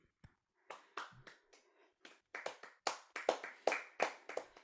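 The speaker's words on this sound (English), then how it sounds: "The saddest golf clap." A pair of podcast hosts give a sparse, deliberately weak golf clap: a few scattered soft claps at first, then a run of about ten quicker, sharper claps close to the microphone, with no speech.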